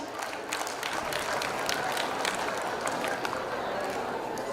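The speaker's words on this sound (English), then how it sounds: "Another round of applause, dear audience" Applause from an audience at an international school's annual prize day, a dense, steady patter of many hands clapping continuously at moderate level, with a faint voice mixed in underneath.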